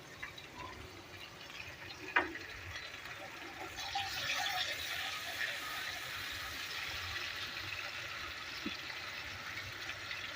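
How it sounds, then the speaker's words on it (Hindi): Water pours steadily into a cooking pot of fish korma with a continuous hissing splash after a brief clank, running on for several seconds. "फिर थोड़ा सा पानी शामिल करेंगे।"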